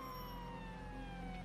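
A faint ambulance siren wails in the distance, its tones sliding slowly downward over a steady low rumble of traffic.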